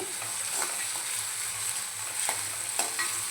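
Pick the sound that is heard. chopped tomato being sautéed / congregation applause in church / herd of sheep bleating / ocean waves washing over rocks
chopped tomato being sautéed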